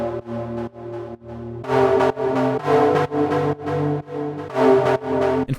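Punchy synth stabs in the deep house style, repeating in a steady rhythmic pattern of short bright chord hits over a sustained bass layer, loud and upfront with no voices.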